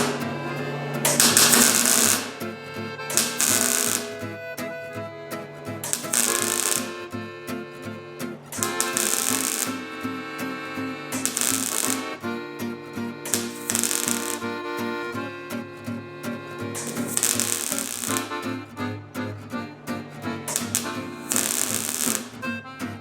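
Arc welding on 1/8 inch wall tubing gives loud crackling, spitting bursts that start and stop in a steady rhythm of roughly eight strikes, each lasting a second or two, with a steady tonal hum underneath.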